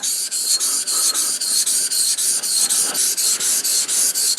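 A knife blade rasps steadily across a Yasunari 5000 grit whetstone in even, rhythmic back-and-forth strokes, close and continuous with no talking.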